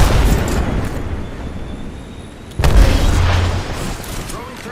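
A frag grenade goes off in a sci-fi shooter game, a deep booming blast partway through over a dense, noisy backdrop of game rumble and effects.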